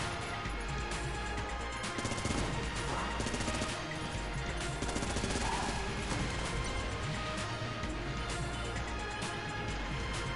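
Vulcan Cannon in Enter the Gungeon unloading a dense, unbroken stream of rapid gunfire with crashing impacts, loud and continuous for the full stretch, layered with game effects and no voices.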